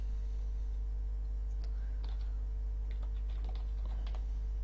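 Keys on a computer keyboard tapped in short, quiet irregular bursts while a label name is entered in QuickField field-simulation software, set against a steady low mains hum with no talking.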